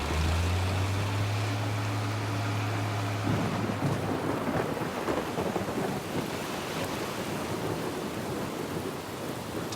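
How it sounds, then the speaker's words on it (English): A thunderstorm strikes at an offshore oil platform, with a low rumbling roll of thunder that gives way to steady, heavy rain hiss, loud and continuous with no voices. "The storm suddenly strikes."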